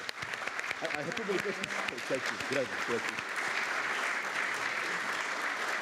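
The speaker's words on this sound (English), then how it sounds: "I think our speaker deserves another good applause." Conference audience applauding a speaker at a session, a sustained round of clapping that begins under a few spoken words and then carries on alone.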